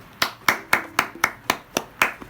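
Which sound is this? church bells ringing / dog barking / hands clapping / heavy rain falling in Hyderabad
hands clapping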